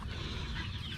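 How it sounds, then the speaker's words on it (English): Chickens on a homestead clucking close by in a steady, busy murmur, with low rumbling farmyard noise underneath and no clear talk. "Quit messing with the chickens."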